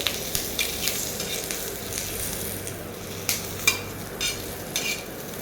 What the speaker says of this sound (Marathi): आपल्याला मिरच्या पण अशा प्रकारे हलवत छान भाजून घ्यायचं आहे